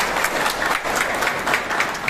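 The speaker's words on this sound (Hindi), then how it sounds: "मैं चाहूंगा एक बार इन तीनों अफसर्स के लिए जबरदस्त तालियां बजाइए" At a police honours event, an audience gives three police officers a loud, continuous round of applause, with many hands clapping close together in a dense, even roar.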